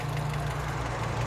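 Steady low engine hum of a 2013 Toyota Yaris 1.5 automatic idling nearby, an even rumble with no revving.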